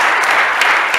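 An audience at a Swedish industry sustainability panel discussion applauds its panelists, a short, dense, steady wash of clapping with no voices over it.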